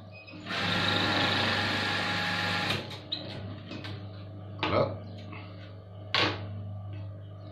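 A sewing machine runs steadily, stitching fabric for a beginner's garment, for about two seconds, then stops; a few sharp knocks and handling clicks follow close by.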